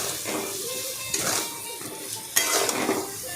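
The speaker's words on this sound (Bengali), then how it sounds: "নুন দিয়ে ভালো করে নাড়াচাড়া করলাম" Food is stirred with salt in a cooking pot for a Bengali pabda fish curry, a soft sizzle under repeated scraping strokes and a light clink of the utensil on the metal, close by, with a little faint talk.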